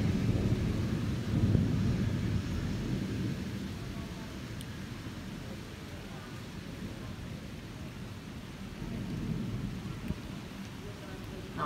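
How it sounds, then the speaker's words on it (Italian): Rain falls steadily during a thunderstorm over Lugano, with low rumbles of thunder rolling under it; a faint voice occasionally murmurs nearby. "Mi sta piovendo addosso, però voglio farvi vedere ancora Lugano coi lampi."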